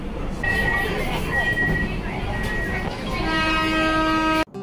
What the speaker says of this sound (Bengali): একদম 6:50 ট্রেনটা ছেড়ে দিল।